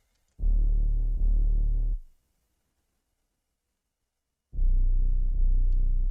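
A reese bass synth for a trap remix plays two sustained, thick low bass notes, one early and one late, with a gap of near silence between them.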